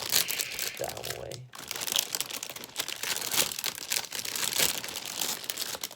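Plastic crinkles and rustles steadily as a bag of model kit parts for an HG Guel's Dilanza is cut open up close, with a sharp snip partway through and soft talk around it.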